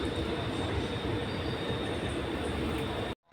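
An MRT train rides toward the airport with a steady loud rumble of wheels and carriage noise and a faint high squeal, continuous for about three seconds before cutting off abruptly.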